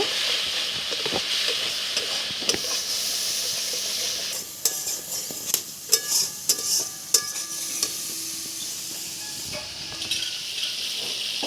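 Masala with turmeric and chili powder frying in oil, a steady close sizzle and hiss with intermittent scraping and tapping of a spatula stirring the pan.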